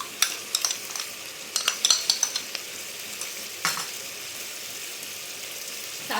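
Ginger garlic paste and chili powder fry in a cooking pot for beef korma, with a soft sizzle under repeated sharp clinks and scrapes of a spoon stirring against metal, close and moderately quiet.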